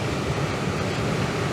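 Waterfall spray roars as a loud, continuous broadband wash of water that hits everything nearby, with a steady rushing hiss and no gaps or voices.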